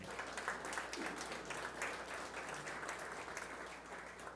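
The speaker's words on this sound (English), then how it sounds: "Big round of applause for them" Steady, fairly quiet applause fills a room of guests at a breakfast show, with many hands clapping evenly throughout and no one speaking over it.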